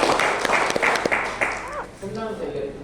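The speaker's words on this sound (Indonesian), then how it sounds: "Tepuk tangan lah penyuluh." Scattered clapping from religious counselors at a regional working meeting fades out after a couple of seconds, and a voice starts speaking as the claps die away.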